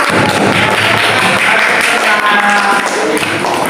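A classroom of Indonesian students claps for a group after an answer about a Quran verse, a loud, continuous mass of hand claps and taps close by.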